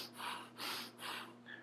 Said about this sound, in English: So I get this type of stressed breathing pattern.